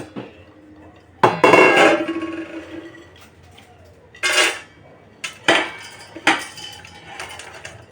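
A cooking pot is washed in a kitchen sink, with loud metallic clanks and scrapes coming in separate bursts and quieter handling noise between them.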